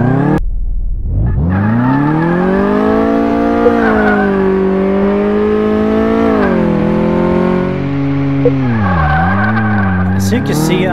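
A car engine in Car Mechanic Simulator 2018 drives around a test track, giving a loud, continuous revving drone whose pitch climbs, holds and dips, with a brief drop near the end.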